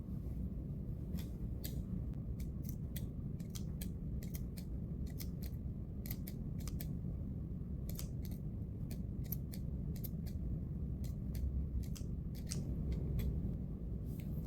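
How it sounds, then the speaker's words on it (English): Fabric shears snip through the seam allowance of a shirt collar, a steady series of crisp, close cuts repeating every half second or so over a low room hum. "I'm going to have to snip all the way through."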